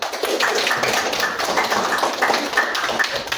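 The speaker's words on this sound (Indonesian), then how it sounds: "Aplaus buat kita semua." Audience applause rings out in a classroom session, a steady dense patter of many hands clapping at once, moderately loud and sustained throughout without a break.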